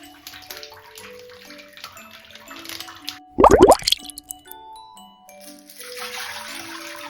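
Water splashes and sloshes in a short burst as someone settles into a half bath in a home bathtub, loud and close against a quiet room with faint background music.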